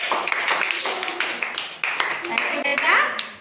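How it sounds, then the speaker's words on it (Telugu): A school audience claps for a student after her presentation on using paper bags instead of plastic, producing dense, close applause that runs throughout with voices mixed in. "శాన్విశ్రీకి అందరూ కూడా క్లాప్స్ కొట్టండి"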